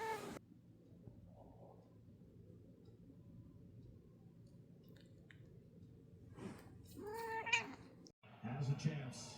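A drowsy house cat gives a short meow near the end after a long stretch of soft room noise, close to the microphone, with faint breathing or shuffling around it.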